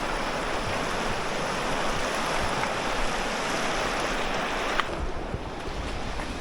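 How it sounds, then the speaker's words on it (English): The Elbow River flows along a backcountry trail, a constant broad rushing of water with a faint wind-buffeted edge, steady and unbroken, with a slight shift in tone near the end. "That's the Elbow River behind me"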